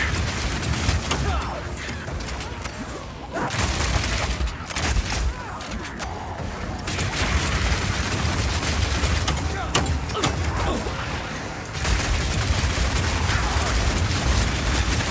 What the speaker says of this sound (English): when the crossbow is heated up, it adds extra fire damage to any grenade that you launch